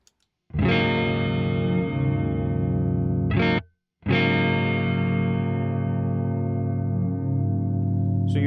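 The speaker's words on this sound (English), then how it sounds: "you do hear the reverb switching off, but the tail still remains" A NUX Verb Core Deluxe reverb pedal on a sustained, distorted guitar chord rings loud and steady, cuts out abruptly for a moment, then returns as a lingering tail that holds and slowly fades. No one speaks.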